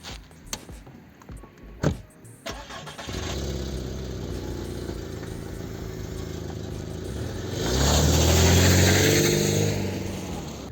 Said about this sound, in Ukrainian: давайте перейдемо до тест-драйву